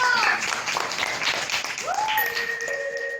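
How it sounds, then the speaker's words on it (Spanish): Applause and cheering after a school presentation, a crowd's dense clapping at moderate loudness with voices and whistle-like tones rising over it toward the end. "Aplausos y arengas"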